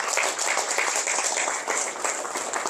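An audience at a Korean anniversary ceremony claps to welcome an introduced guest, a brisk, continuous patter of hands from a mid-sized crowd at moderate volume.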